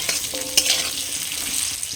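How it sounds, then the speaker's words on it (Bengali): Pumpkin slices frying slowly in oil over a low flame, a continuous soft sizzle with light crackles and a small spatula scrape near the start, close and steady with no talking. "লো ফ্লেমে ধীরে ধীরে এইভাবে ভাজবো।"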